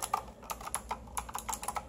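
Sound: typing on Dotech typewriter-style mechanical gaming keyboard

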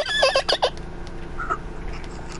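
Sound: person imitating a horse neigh

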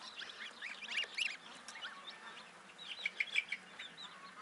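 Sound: chicks peeping

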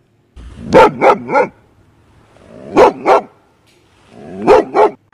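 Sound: dogs barking

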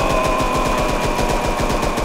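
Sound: cartoon gunfire shooting at a character

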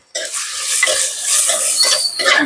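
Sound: stirring tindora (ivy gourd) curry in a pan

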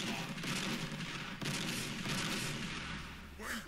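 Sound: gunfire from Warhammer 40000 Sanctus Reach video game

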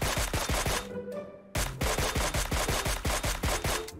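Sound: SKS rifle gunfire in the video game PUBG Mobile

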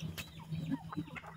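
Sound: chickens clucking

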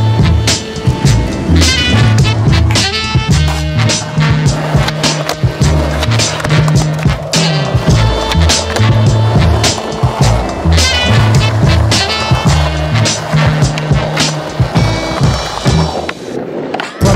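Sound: skateboarding on new Red skateboard decks

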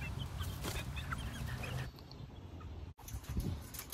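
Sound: quail or hens clucking in a coop

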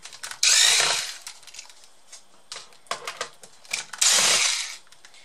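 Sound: cordless screwdriver unscrewing laptop screws

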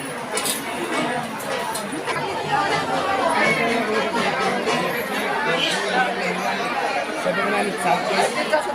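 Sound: large crowd chattering near Tuljapur temple

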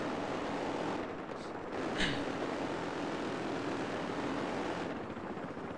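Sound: helicopter flying, from a video game

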